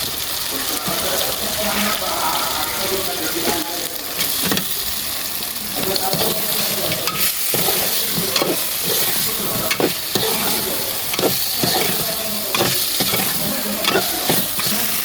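Local free-range chicken frying in oily spice paste for a rezala, with a constant loud sizzle and repeated scraping strokes of a spoon stirring the pot.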